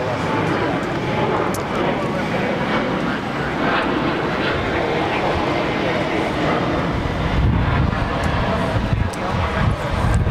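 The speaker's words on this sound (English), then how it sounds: "Yeah, it was a go-around." Airliner at JFK airport applying go-around thrust on an aborted landing, a loud broad engine roar holding steady throughout, with people talking over it.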